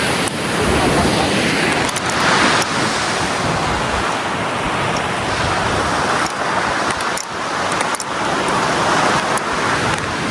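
Sea waves wash onto a beach in Batangas, a loud, continuous roar of surf with wind buffeting the microphone throughout and faint traffic-like rumble underneath.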